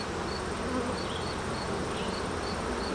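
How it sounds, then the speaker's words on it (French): Honeybees from an open hive colony fill the air with a dense, steady buzzing, loud and close, with no voices over the continuous drone. "je vais venir secouer les abeilles dans la colonie pour dégager le cadre en entier."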